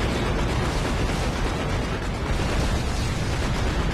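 Enemies burst apart in the Dead Space 3 video game, producing a dense, continuous roar of explosive noise that stays loud and unbroken for several seconds with no voices.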